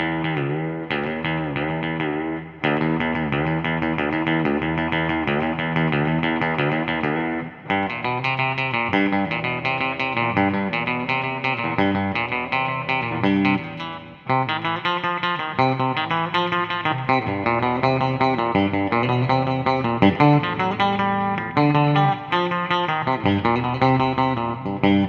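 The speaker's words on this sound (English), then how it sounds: "I have delay and reverb just for the surf rock thing, and this is beautiful to do things like this." Surf-rock electric guitar runs through delay and reverb pedals, playing sustained, shimmering chords and picked notes that ring into a wash of echoes, loud and continuous with no talking.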